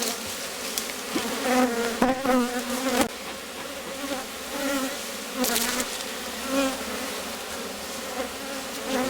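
Honey bee colony in an opened Rose hive, a dense, loud drone of many buzzing bees close by, with individual bees swelling louder as they pass near and a few knocks from the hive.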